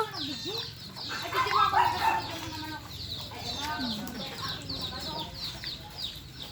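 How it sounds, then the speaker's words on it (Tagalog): Chickens cluck and squawk repeatedly close by, a busy farmyard chorus with a few louder calls, and a voice speaks briefly among them. "Gutom na ang mga manok ni Rosan."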